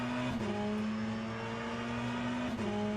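An LMDH prototype race car engine in the Le Mans Ultimate sim at Monza hums at a steady pitch, with two brief dips like gear shifts, continuous and moderately loud.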